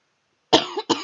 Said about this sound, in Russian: Извиняюсь за мой кашель.